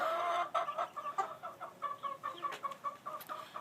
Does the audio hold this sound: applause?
no